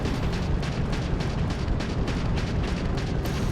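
A missile explosion in the game Starfield, a dense, loud, continuous rumbling blast with crackling bursts that fills the moment without letup.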